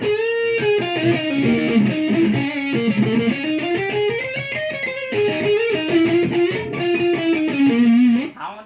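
An electric guitar through a Mooer GE-100 multi-effects processor plays a flowing, sustained melody with rich effects and a bright distorted edge, close and loud, ending abruptly.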